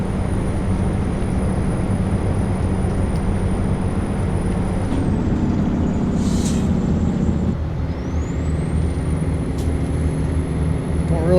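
A truck in American Truck Simulator hums along steadily, and a brief hiss of its air brakes breaks in midway through over the continuous engine and road drone.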